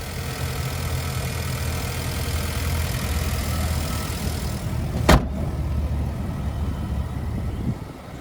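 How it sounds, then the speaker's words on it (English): 2021 Nissan Rogue Sport with its 2-liter naturally aspirated 4-cylinder engine idling: a steady, even low hum close by, broken once by a brief sharp click midway. "And there's that 2-liter naturally aspirated 4-cylinder."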